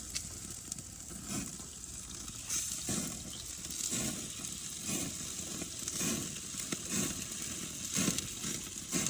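Chicken thighs sizzle steadily on a gas grill outdoors, a continuous close frying hiss with faint crackles and occasional louder pops, no voices.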